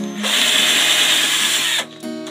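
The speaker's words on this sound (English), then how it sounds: "using a drill I'm just going to put probably three screws in I'm just drilling the pilot hole" A power drill boring a pilot hole for a screw whines at high speed for about a second and a half, then stops briefly before a short second burst.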